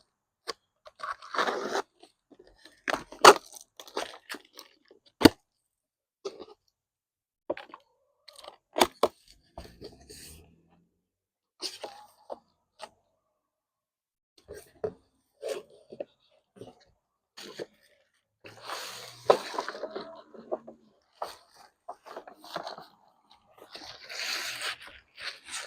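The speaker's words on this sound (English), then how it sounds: "I decided to use an actual tool to help me open up this box instead of fighting, since this is a heavier taped box and a heavier duty box." Heavy-duty taped cardboard box for a garden seed-starting bundle being cut open with a tool: scattered scraping, crunching and tearing bursts with pauses between strokes, close and fairly quiet, no talking.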